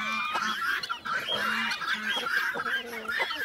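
A young rooster or chicken on a farm gives repeated loud, harsh honking squawks in quick succession, close by and continuous.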